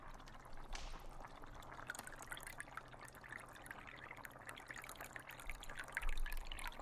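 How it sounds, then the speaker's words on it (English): Calla lily water poured slowly from a jar into a witch's potion in an ASMR roleplay, a soft close trickle and dribble running steadily through, faint and intimate with no talk. "Now, pour the calla lily water. The whole jar, but remember not to pour it all at once."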